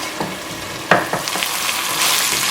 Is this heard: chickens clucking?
no